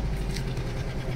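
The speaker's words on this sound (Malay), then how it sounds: "Kalau kau dengar dekat exhaust, try minyak sikit. Dengar dia punya exhaust." Brief, fairly faint exhaust rumble from a Nissan Grand Livina whose engine is misfiring and running on three cylinders, giving a low, uneven, pulsing idle.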